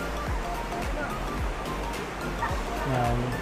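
Water from a small waterfall rushes steadily in a broadband wash beneath someone speaking close by, with no clear pauses.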